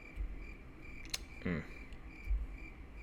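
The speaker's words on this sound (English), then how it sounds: "Go away, crickets." Crickets chirp faintly and continuously in a quiet indoor background, a thin steady trill broken by a few soft clicks and brief low noises.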